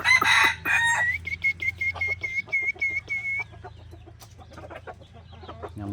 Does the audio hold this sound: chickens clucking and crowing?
yes